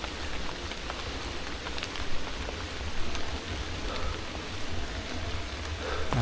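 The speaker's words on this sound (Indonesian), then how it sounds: "Ini hujan-hujan juga." Heavy night rain in a deserted village, a dense, steady hiss of drops striking surfaces all around, with no voices over it.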